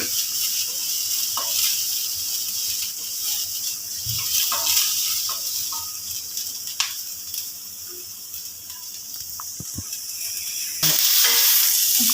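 Vegetables including carrot sauté in ghee, giving a soft, low sizzle with scattered small clicks and stirring knocks, and a louder burst of frying near the end.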